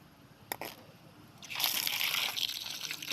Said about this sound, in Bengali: আমি ততক্ষণে মুগ ডালটা ভালো করে পরিষ্কার করে ধুয়ে নিই